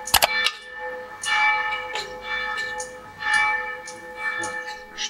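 Church bell peals continue in a steady, repeated rhythm, each stroke blooming and ringing on, moderately loud and unaccompanied by voices.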